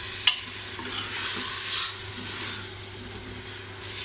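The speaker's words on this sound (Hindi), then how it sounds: "दाल को अच्छी तरह से इस मसाले में भून लेंगे।" Steady frying sizzle of lentils in spices with scraping stirring in a pan, a sharp clink at the start, no voices.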